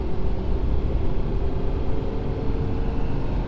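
A 2019 Ford Super Duty pickup towing a trailer and accelerating onto a highway gives a steady, loud low engine drone and road rumble, heard from inside the cab with no one talking.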